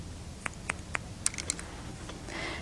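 Scissors snip through hair during a short layered haircut, a handful of crisp, close clicks spaced unevenly over a few seconds in a quiet room.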